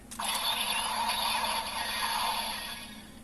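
A steady electronic tone from a DX Guts Hyper Key Power Type toy transformation device in gun mode, with bright buzzing harmonics, holds for about three seconds, then fades slightly at the end, close and fairly loud.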